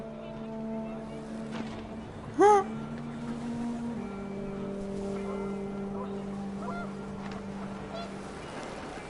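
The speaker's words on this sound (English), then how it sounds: "The wind picked up, and panicked geese appeared and quickly went." A single goose-like honk rings out briefly and clearly in the game What Remains of Edith Finch, over a sustained low ambient drone and faint background tones.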